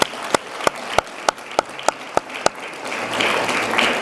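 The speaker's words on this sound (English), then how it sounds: "Round of applause." Round of applause from an audience at a 2017 UCCI awards ceremony, rising after a series of sharp, evenly spaced loud claps into a broad, sustained wash of clapping.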